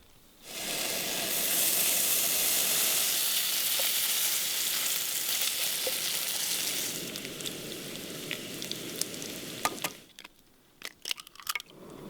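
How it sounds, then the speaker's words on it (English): Bacon sizzles loudly and steadily in a pan for gypsy toast with cheese, outdoors near Pine Mountain Club, California. After about ten seconds the hiss thins, leaving scattered clicks and taps. "Which would be gypsy toast with bacon and cheese."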